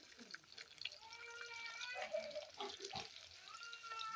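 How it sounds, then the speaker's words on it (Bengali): Chopped onion sizzling in hot oil with whole spices in a pan, a steady close frying hiss with occasional stirring clinks and scrapes throughout, no speech. "পেঁয়াজ কুচিটাকে এবার আমি এটা হালকা করে ফ্রাই করে নেব।"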